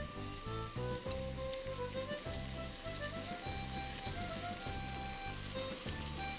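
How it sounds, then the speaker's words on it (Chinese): Soy sauce sizzles in a hot pan turned down to low heat while spring roll filling cooks, a steady frying hiss sitting under louder rhythmic background music. "好了，改小火，我们放酱油。"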